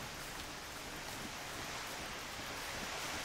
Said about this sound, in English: Oh, it's a little waterfall here.